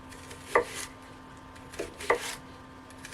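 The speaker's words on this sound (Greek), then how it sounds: "Εδώ έχω πράσα. Θα τα κόψω σε ροδέλες." A knife slices leeks into rounds on a board, two crisp separate cuts about a second and a half apart, close and otherwise quiet.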